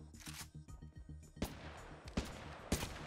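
Gunfire from a custom gun in the video game Halo, rapid repeated shots rattling in a fast burst, then a few heavier, separated blasts, fairly faint overall.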